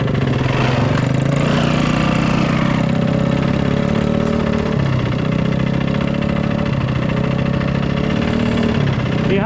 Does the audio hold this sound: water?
no